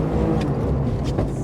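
Rally car accelerating on snow during a stage rally in Lapland, a short close engine roar with a brief rising rev near the end.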